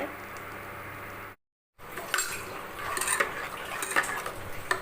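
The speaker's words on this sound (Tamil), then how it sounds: "கொஞ்சம் கிளறி விட்டுக்கிட்டே இருங்க" A spoon stirs boiling coconut milk in a heavy pot, making close metallic scraping and clinking with a short break of silence partway through, then busier clattering.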